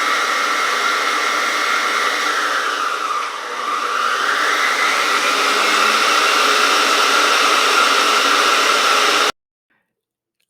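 Electric mixer whirring steadily as it blends butter, oil and vanilla extract for a red velvet cake batter, a loud continuous motor drone that dips briefly in pitch before cutting off near the end.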